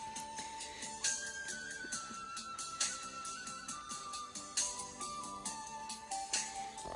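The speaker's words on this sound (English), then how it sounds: "It's a pipe flute, a handmade one." Handmade pipe flute melody playing indoors in a house, sustained whistly notes stepping up and down over a busy, layered background of other instrumental parts, steady and moderately loud with no talking.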